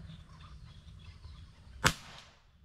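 A single sharp shot cracks out toward a target at about 55 yards, one brief report after a stretch of faint background hiss, with a short tail afterward.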